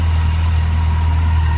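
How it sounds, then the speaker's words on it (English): A 2006 Yamaha FJR1300 motorcycle engine idles steadily at about 1250 rpm, a loud, close, even low rumble with no break and no voices. "About 1250 I like it idling on."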